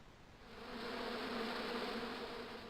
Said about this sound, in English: Those hornets were not pleased.